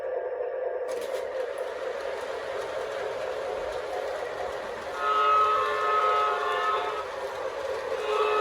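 A Menards F3 O gauge model train pulling a weighted consist rumbles steadily along its track, with a brief whistle-like tone sounding partway through. No one speaks.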